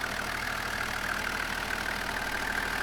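A 1999 Toyota Land Cruiser 70 with a 4.2-liter inline six-cylinder engine idles steadily and close by, a constant low rumble with no voices.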